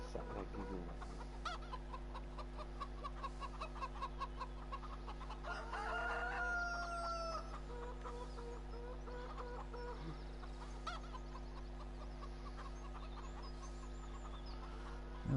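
Chickens clucking in a farm simulation video game, with a rooster crowing partway through over a constant low electronic hum; soft, fairly distant calls that run throughout.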